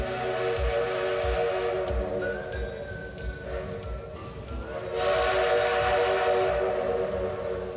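A steady steam locomotive rumble with its whistle blowing over it, fading briefly near the middle and returning louder toward the end.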